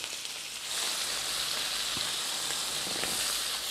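US beef fillet searing in a hot pan gives a loud, steady sizzle that swells after a moment and continues evenly, with a few faint clinks and no voices.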